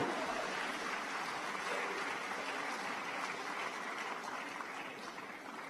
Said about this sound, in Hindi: हाँ ताली बजाना तो बजा लो आप लोग।